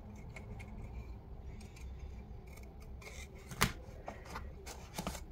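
Scissors cut paper for a scrapbooking project in soft, uneven snips and rustles, close and quiet, with one sharper snip partway through and no talk.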